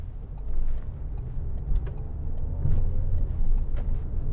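A Citroen Berlingo Multispace 1.6 e-HDi drives along, heard from inside the cabin as a steady low engine drone and road rumble with occasional soft knocks.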